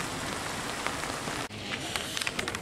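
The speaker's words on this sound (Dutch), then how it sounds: "Ondanks dat het regent," Rain falls steadily on a holiday outing in the Voerstreek, a dense even hiss of drops with scattered louder patters, close and continuous apart from a brief dip midway.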